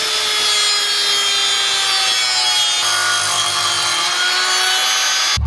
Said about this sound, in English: I'm going to cut two little slits in it right here and here, just to make the bend go a little bit easier